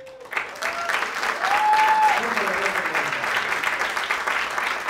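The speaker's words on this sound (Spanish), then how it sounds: "Fuerte el aplauso para Victoria Álvarez y Jesica Carruega" Warm audience applause for two performers at a stage show, steady and full throughout, with a few whistles rising above the clapping.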